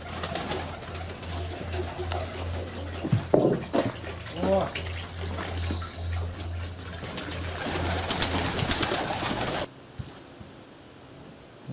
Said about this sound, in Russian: Ну, мои голуби любят воду